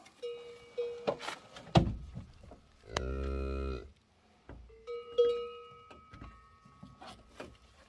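A cow moos in several drawn-out, nasal calls at close range, separated by short quiet gaps, with one longer, louder low moo in the middle and occasional handling noises around it.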